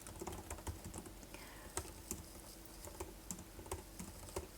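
Rapid, irregular keystrokes on a computer keyboard while entering commands for a Metasploit exploit, with a steady patter of close clicks and a few sharper taps and no talking.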